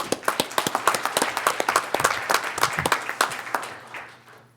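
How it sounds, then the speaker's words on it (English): Members-meeting audience applauding a registration services staff team at a conference, dense close clapping that holds steady for a few seconds, then thins and fades out toward the end. "I'd like to give a round of applause for this team."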